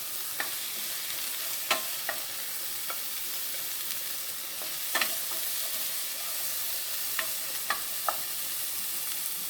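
Peppers cooking in oil in a pan for a pasta with sausage and broccoli rabe, a steady close sizzle broken by occasional sharp clicks and scrapes of a stirring utensil.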